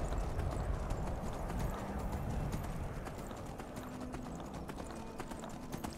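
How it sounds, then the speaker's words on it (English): Rapid, steady hoofbeats of a galloping horse in Skyrim pound continuously, fairly close and even in rhythm, with no talking. "I'm just gonna get my horse on and hightail it to Ulfric."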